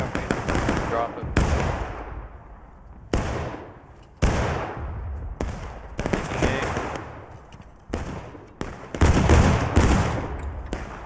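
Musket volleys in the video game War of Rights during a large battle, sharp loud cracks fired in ragged clusters with ringing echo between them, continuing through the scene, some shouting underneath.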